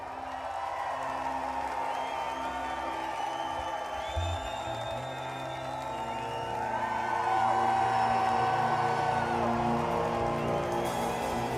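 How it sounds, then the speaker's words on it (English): Festival crowd at a concert at Primavera Sound Porto cheering and whooping steadily, a dense wash of voices that swells louder in the second half. "Go on, let's cheer for us. That's great. Everyone cheer."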